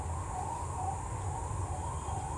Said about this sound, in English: I'm sorry if you can hear that siren, if there's an ambulance going through